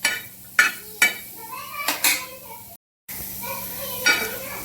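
Sliced onion and two medium tomatoes sizzle and fry in a pan for a fish curry masala, with a handful of sharp utensil scrapes and stirring knocks over a steady hiss; one brief gap of silence.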